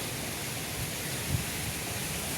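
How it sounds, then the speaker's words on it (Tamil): Wind and light drizzle from an approaching storm wash over a rural backyard, a steady broadband hiss with faint low gusts, close and continuous with no voices. "இப்போ சாரல் காற்று மழையெல்லாம் ஆரம்பிச்சிருச்சு."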